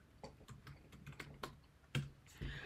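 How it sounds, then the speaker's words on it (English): Quiet, close keystrokes tap on a computer keyboard in an irregular rhythm, a dozen or so clicks with a louder press near the end. "once I finish typing in"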